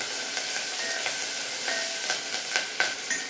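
Curry leaves sizzle and hiss loudly in hot oil with mustard seeds, cumin and green chillies, with a constant frying crackle and a few sharper spits toward the end.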